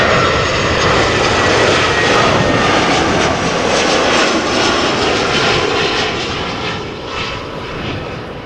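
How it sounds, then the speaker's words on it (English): A Vueling Airbus A320 jet arriving from Valencia at Amsterdam roars steadily and loudly overhead, a broad continuous engine rush that slowly fades toward the end. "Next up, Vueling A320 flight 8353 arriving from Valencia."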